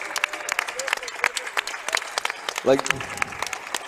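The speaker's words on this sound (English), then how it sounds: "Yeah, round of applause." Audience applause at a CS:GO tournament, Argentina versus Turkey, comes as a moderate patter of clapping under a voice that talks briefly.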